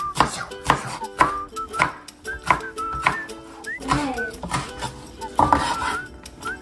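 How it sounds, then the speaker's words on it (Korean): A knife chops squid on a cutting board at home for a stir-fry, each close, sharp, regular chop knocking against the board, with clinking cutlery and dishes around it. "오징어 살아 있어? 썰어줍니다."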